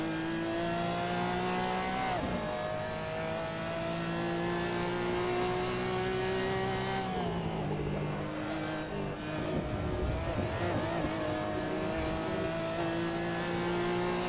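Porsche Cayman GT4 Club Sport engine in Assetto Corsa racing at Summit Point, a loud continuous drone rising and dropping through gear changes, with short easing-off moments and tire noise, no voices.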